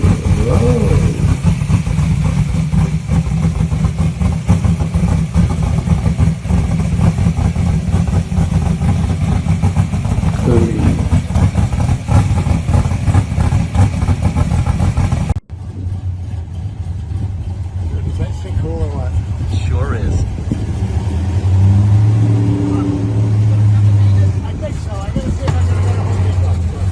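A classic muscle car with a 572 big block engine rumbles loudly at idle, a deep, uneven burble with occasional revs, while people talk nearby; the sound shifts abruptly partway through to a different, closer engine tone.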